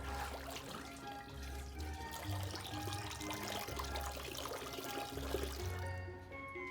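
A light ball lowered into a container of water for a displacement demonstration, giving a steady watery pouring and sloshing sound under a bed of background music.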